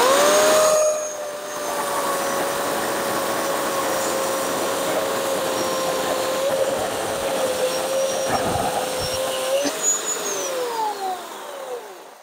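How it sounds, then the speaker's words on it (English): A chainsaw engine drones steadily for several seconds at close range, its pitch wavering, then dipping and rising again near the end. "Right, so we have the chainsaw primed and ready."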